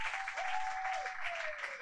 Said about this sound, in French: Donne une acclamation pour le Seigneur ce matin